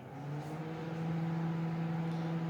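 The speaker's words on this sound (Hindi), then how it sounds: "15 मिनट्स के लिए हमने माइक्रोवेव में इसको ग्रिल करने के लिए रख दिया है" A microwave oven grilling fish runs with a steady low electric hum and a faint whir, constant and close, with no talk over it.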